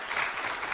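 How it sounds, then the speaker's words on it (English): A conference audience at a healthcare event gives a short burst of applause, a brief, even hiss of many hands clapping at moderate distance. "A round of applause, please."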